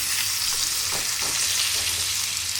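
A salmon fillet gently frying in a pan, giving a constant close sizzle with a few soft clicks and scrapes, with no voices.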